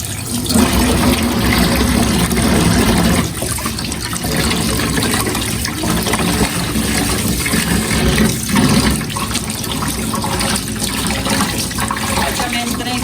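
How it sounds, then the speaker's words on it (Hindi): Running water pours steadily over fish being rinsed in a kitchen after a salt and vinegar soak, a continuous splashing wash that fills the clip, with faint talk underneath. "फ़िश को मैं शावर दिलवा रही हूँ आफ्टर नमक और सिरका।"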